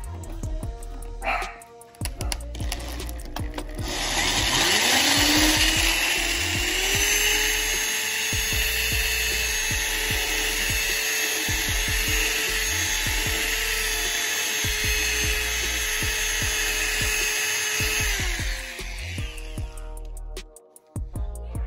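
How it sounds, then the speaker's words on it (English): A power drill with a drill bit whirs steadily at high speed for about fifteen seconds, boring a screw hole in a pedalboard, close and loud, spinning up and winding down at either end. "So now I'm gonna use my drill bit."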